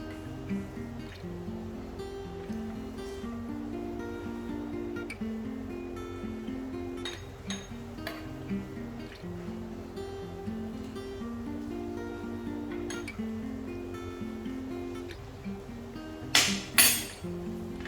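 A lava lamp mixture is stirred in a glass, with light clinks and taps against the glass over a droning musical background, ending in a couple of sharper, louder clinks.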